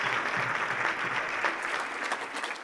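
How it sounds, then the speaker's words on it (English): An audience at the State of Cherokee County event breaks into a steady round of applause, a dense wash of clapping that runs at even loudness from start to finish with no voices over it. "So let's give everybody a round of applause."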